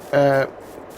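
A young sheep gives one short, clear bleat up close, a harmonic cry of about a third of a second that ends in near silence.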